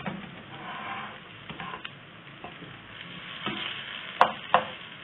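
Turnip chapli kabab frying in a pan after being flipped, a steady soft sizzle with a few sharp ticks and spatula taps near the end.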